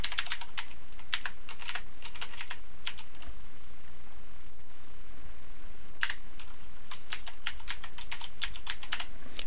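Rapid bursts of typing on a computer keyboard while entering a login, close and clear, clustered in two runs with a pause between, no talking.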